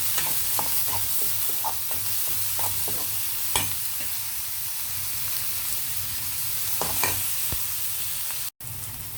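Onions fry in a pan with a constant loud hiss and scattered stirring clicks, close up, before a brief dropout near the end.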